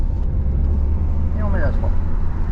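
A car accelerates during a driving lesson, a loud steady low engine and road rumble from inside the cabin, with a brief voice over it.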